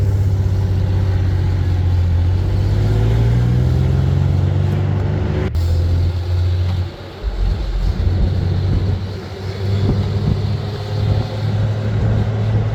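The engine of a Jeep CJ6, a low-mileage ex-fire-department vehicle, drones loud and close while being driven, its low hum rising in pitch through a gear shift, with road and wind rumble beneath.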